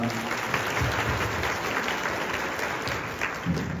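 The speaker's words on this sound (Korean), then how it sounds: "큰 박수 부탁드립니다" Students at a Korean foreign language high school's freshman welcome and appointment ceremony applaud together, a steady wash of many hands clapping at moderate volume with no talk over it.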